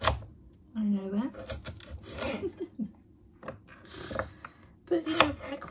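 A knife chops peppers and a carrot on a board at home, with irregular knocks and scraping strokes, fairly close, between quieter pauses and some faint background sound.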